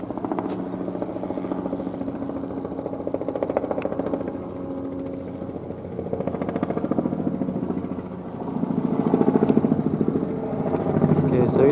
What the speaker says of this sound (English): Helicopter approaches.